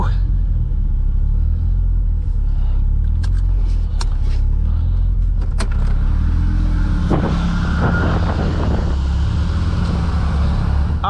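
A K20 engine-swapped Honda Jazz drives a mountain pass, its engine rumbling loud and steady from inside the cabin, with faint knocks and a voice heard briefly near the end.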